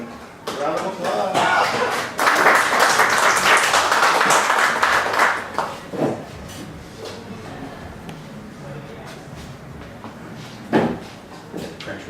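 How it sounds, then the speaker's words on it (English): Audience applause in a room, a burst of clapping rising around two seconds in and holding for a few seconds before fading into scattered thumps and murmur. "Round of applause."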